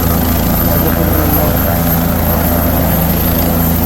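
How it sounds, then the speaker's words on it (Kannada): A helicopter at the Kedarnath helipad roars steadily and loudly throughout, its dense rotor and engine noise close and unbroken, drowning out any other sound. "ಈಗ ಹೆಲಿಕಾಪ್ಟರ್ ಕೊಡ್ತಿರುವಂತಹದ್ದನ್ನು ನೀವು ಗಮನಿಸ್ತಾ ಇದ್ದೀರಿ. ಈ ಹೆಲಿಕಾಪ್ಟರು"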